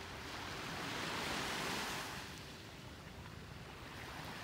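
Ocean surf washing onto a white-sand beach at a state park in North Naples, Florida, a soft continuous rushing wash that swells and eases, faint and distant with some wind, no voices.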